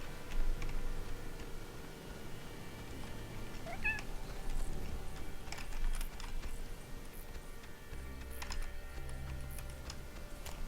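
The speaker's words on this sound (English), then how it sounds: "The cat has joined us." An indoor house cat meows a few times, fairly faint and spaced apart, over a quiet room with light ticking and tapping sounds and game audio in the background; no one speaks.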